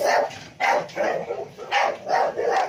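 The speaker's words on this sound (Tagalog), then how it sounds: "Ang daming aso." Several dogs bark in quick, repeated bursts at a house and lot in Pagsanjan, Laguna, close and fairly loud, with short gaps between the volleys.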